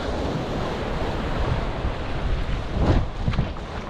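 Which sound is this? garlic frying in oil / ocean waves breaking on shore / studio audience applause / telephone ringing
ocean waves breaking on shore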